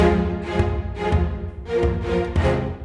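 Synth stabs programmed in Logic Pro X hit in a punchy rhythmic pattern, with boosted-velocity accents standing out over softer hits. The stabs are loud and upfront, with no talking.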